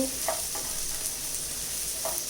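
Mixed vegetables sautéing in a pan for a paneer sizzler, a steady close sizzle with a few brief stirring scrapes of the spatula, no talking.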